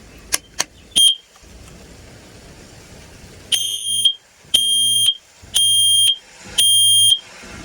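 A carbon monoxide detector alarm sounds loud and piercing in repeated beeps, first a few short chirps, then four long evenly spaced blasts with brief gaps between.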